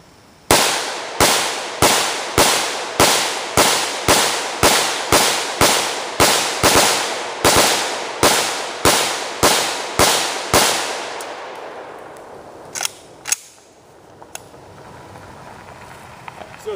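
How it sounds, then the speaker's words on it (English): An AK rifle with a KNS gas piston fires 20 rounds in an even, rapid string of loud, sharp cracks. The shots are followed by a quieter tail with a few faint clicks. "So we'll do a quick 20 round shot here for you guys."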